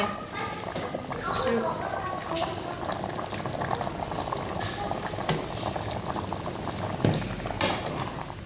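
Bamboo shoot curry boils in a pot on a gas stove, a steady close bubbling and popping that runs throughout with faint voices underneath.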